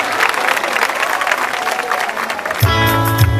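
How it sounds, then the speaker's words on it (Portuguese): A church gathering of young people breaks into a dense round of clapping mixed with crowd murmur, then a keyboard or organ chord swells in under the applause for the final second. "uma salva de palmas, olha aí."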